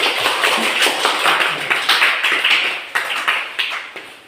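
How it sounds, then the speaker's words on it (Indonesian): A classroom gives a group of students a round of applause, with dense, steady clapping from many hands that carries on without a break and then fades near the end. "Kasih aplaus untuk kelompok 2"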